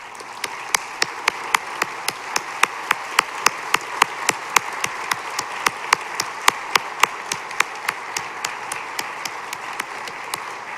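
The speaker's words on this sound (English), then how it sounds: "if everybody could please give them a round of applause" An audience applauds at a 2022 National Honor Society induction ceremony: a steady wash of clapping runs for about eleven seconds, with sharp, evenly spaced claps from someone close to the microphone standing out throughout.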